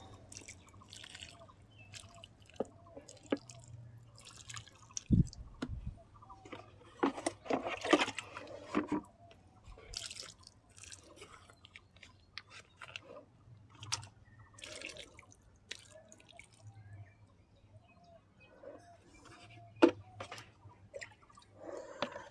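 A mug of water is poured around the base of a drumstick plant set in a soil-filled tray, giving quiet scattered drips and short trickles with long near-silent gaps, one brief louder splash midway.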